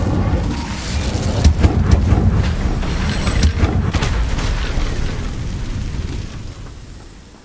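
The Incendio fire spell is cast in Hogwarts Legacy: a loud, dense whooshing burst of flame with rumbling booms that gradually fades over several seconds, with no talking.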